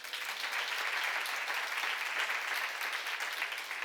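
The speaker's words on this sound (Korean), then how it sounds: "왜 박수 안 쳐?" A church congregation claps steadily and fairly loudly for a few seconds, with no speech over it.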